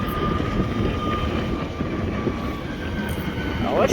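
An RER commuter train rolls through Houilles-Carrières-sur-Seine station with a steady rumble and a thin high squeal, holding close and continuous for the whole stretch, with a brief screech near the end.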